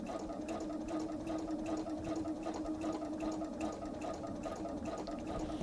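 A sewing machine top stitches through cotton, its motor purring in a steady, rapid needle rhythm throughout, fairly quiet and without talk.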